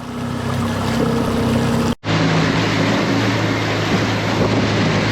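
A small boat with a Yamaha 9.9 HP outboard motor drones steadily along the Cultus Lake shoreline with wind buffeting the microphone, a brief dropout near two seconds, then the engine hum and water noise continue.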